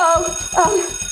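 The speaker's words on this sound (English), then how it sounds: "school bell, I gotta go." A school bell rings with a rapid, rhythmic electric clatter of repeated strikes, loud and close, while a bright tone briefly rises above it.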